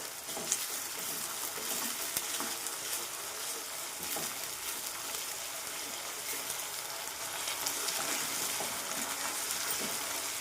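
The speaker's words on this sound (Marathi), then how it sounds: "कांदा कापून घेतलेला आहे चिरलेला तेही टाकलेला आहे आणि छान लाल होईपर्यंत भाजणार आहोत" Chopped onion frying in oil in a pan, a steady dense sizzle that holds evenly throughout, close and moderately loud with no voices.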